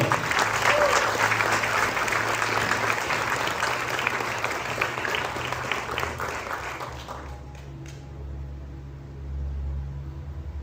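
A church conference congregation applauds in a loud, sustained burst that fades out over several seconds, leaving a low hum of room noise at the end.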